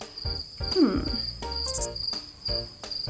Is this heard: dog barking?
no